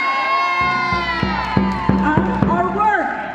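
A crowd at the 2018 Women's March in Denver cheers, whoops and screams in one steady roar, with sharp rhythmic bangs or drumbeats coming through the noise.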